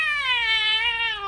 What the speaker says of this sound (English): Devil, that's your cat.